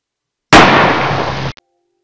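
One loud, close rifle shot during a hunt in Africa, a sharp blast with a long ringing tail that ends abruptly, followed by a tiny click in otherwise silent surroundings.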